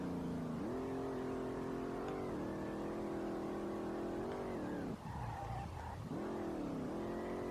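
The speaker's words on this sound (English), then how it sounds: "Ooh, a nice lockup of the wheels." A Nissan 350Z drifting on a touge mountain road in SLRR, a loud steady engine drone that dips and recovers, broken by a harsh tire-squealing wheel lockup in the middle before the revs climb again.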